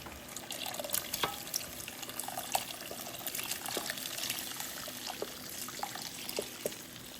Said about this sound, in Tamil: இறைச்சியை விட்டு தண்ணியும் விட போகிறேன்.